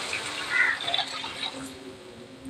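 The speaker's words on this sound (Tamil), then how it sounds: "கொஞ்சம் தண்ணி ஊற்றி விட்டுடலாம்" Water pours from a vessel into a pan of semiya upma in a home kitchen, a soft continuous splashing stream, close and moderate in level, with no talk.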